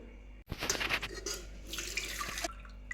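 Water pours and splashes steadily for a couple of seconds after a brief pause, close by, as the cooking water is drained off boiled banana flower, like liquid emptying into a sink.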